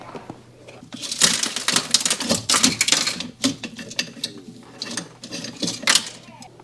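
A ratchet driving out screws from the door of an Alfa Romeo Brera, with rapid clicking bursts coming and going close by over several seconds.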